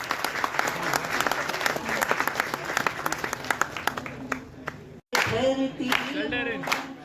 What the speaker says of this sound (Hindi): उनके स्वागत में एक बार तालियां जरूर बजाते हैं।